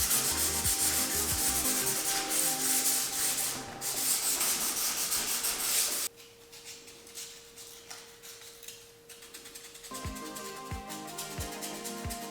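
HO slot car track pieces being sanded, with long stretches of close, dense scratchy rubbing that drops to quieter strokes midway before picking up again, no one talking.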